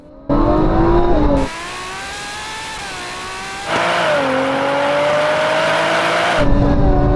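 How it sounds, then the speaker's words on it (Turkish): A Ferrari V12 and a Nissan NISMO V6 accelerate hard side by side in a rolling drag race from about 65 km/h in second gear, loud continuous engine roar with rising revs and a gear change midway, no talk. "şimdi yaklaşık 65 kilometre hızla ikinci viteste tam spor ayarında bir rolling yarışı yapacağız"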